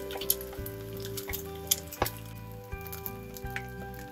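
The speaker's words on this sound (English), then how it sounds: "I have heated up my oil in a pan, and to it I'm going to drop in the egg." An egg dropped into hot oil in a pan sizzles and crackles steadily, close up, with small spattering pops and faint stirring noises and no voices over it.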